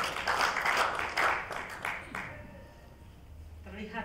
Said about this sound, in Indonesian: Boleh kita berikan tepuk tangan untuk Ibu Amelia Kamara